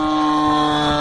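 A Yak 54 model airplane engine drones with a steady, loud, tonal hum that holds an even pitch throughout, close and continuous with no talk.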